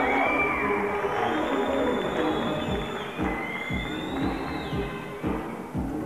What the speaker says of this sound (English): Oh, round of applause for that.